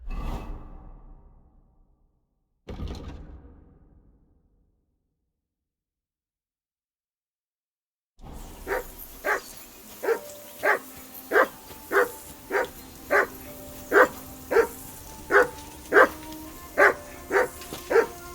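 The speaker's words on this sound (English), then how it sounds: "Whistle at that mutt of yours to stop barking!" In the medieval game Kingdom Come Deliverance 2, a couple of soft whooshes give way to a dog barking repeatedly in a steady rhythm, about a dozen sharp barks at close range.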